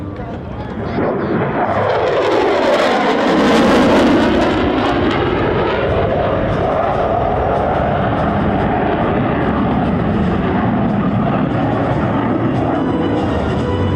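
A Boeing F/A-18F Super Hornet jet at an air show roars past with a loud, sweeping rush whose pitch bends as it passes, then settles into a sustained engine rumble while an announcer talks over it.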